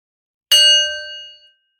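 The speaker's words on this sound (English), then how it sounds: "let's begin with the bell" A meditation bell struck once, a bright metallic ding that rings out clearly and decays smoothly over about a second in silence.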